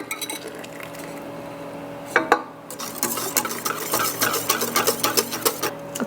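Butter mixed into a sugar and egg mixture in a bowl for sweet Easter bread, quiet at first, then a run of brisk clinking, scraping strokes of a utensil against the bowl.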